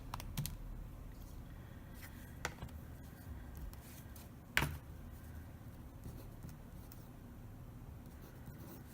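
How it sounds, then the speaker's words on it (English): A few soft, sparse taps on a calculator keypad, quiet and close, spaced seconds apart over a faint room hush with no talking. "typing that into the calculator, log of 3/5 divided by"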